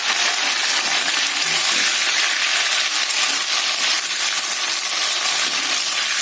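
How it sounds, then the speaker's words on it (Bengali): Panch phoron, bay leaves and ginger paste fry in hot oil for a vegetarian dish, giving a loud, steady sizzle that runs without break. "ফোড়নে পাঁচফোড়ন আর তেজপাতা, আর তার সাথে আদা বাটা দিয়ে ভালো করে একটু কষিয়ে নেব।"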